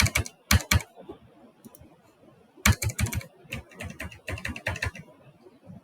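Keys clatter on a computer keyboard as a username and password are typed at a login, quick bursts of close, crisp clicks separated by short pauses, with no talking.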